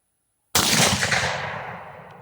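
One loud shot from an 8mm Mauser rifle firing cast bullets at an outdoor range. A sudden sharp blast follows half a second of silence and then rings out in a long fading echo.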